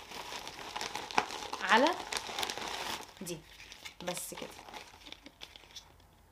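A large plastic shipping bag from an online order crinkles and rustles in bursts during unpacking, fairly close, with someone speaking briefly between the crackles.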